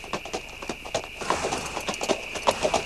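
Horses' hooves clip-clopping steadily at a walking pace, a close, regular rhythm of sharp knocks carrying on the whole time as riders travel on horseback.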